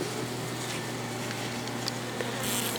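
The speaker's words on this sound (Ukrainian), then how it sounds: "На піддашнику купа бджоли поверх рамок." A dense, steady buzz of many honey bees crowded on top of hive frames fills the clip, continuous and close, with a slight rise in hiss toward the end.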